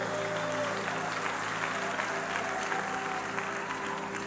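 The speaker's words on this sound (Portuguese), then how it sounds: "Aplauda ao Senhor" A Pentecostal church congregation applauds together, a broad, continuous patter of many hands filling the room at moderate volume, with steady tones from instruments held underneath.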